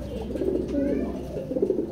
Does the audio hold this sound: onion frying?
no